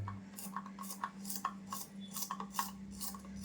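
Kartule, a wild spiny gourd vegetable, is sliced thinly with a knife in a home kitchen, giving quick, rhythmic rasping cuts, a dozen or so close, crisp strokes over a low steady hum.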